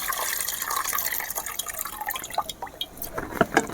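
Water sloshes and drips while rice is washed by hand in a pot, with close splashy trickles and small irregular splashes throughout.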